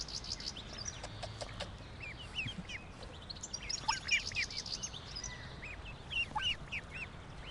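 Ducks quack and call close by in short repeated chirping bursts over a low outdoor background.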